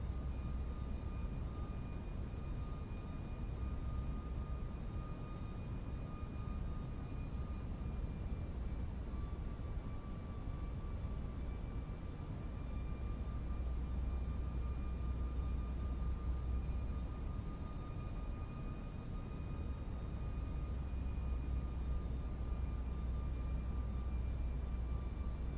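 Airliner cockpit ambience in Microsoft Flight Simulator 2024 during a dark crosswind landing approach: a steady low engine and airflow rumble with faint sustained tonal whines, continuous and unbroken, no voices.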